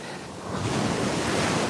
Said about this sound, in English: can you hear how loud the waves are today too? Man, these are some major rollers.